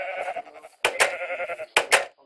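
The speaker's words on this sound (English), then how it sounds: "New color sheep!" Sheep in the Minecraft video game bleat in two quick pairs of sharp, wavering calls. A fainter tonal murmur runs under them, and the game sounds come through clean and close.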